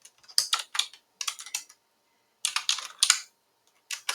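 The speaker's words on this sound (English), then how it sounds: "I'm going to type in" Typing on a computer keyboard, close and crisp, in quick bursts of key clicks separated by short pauses.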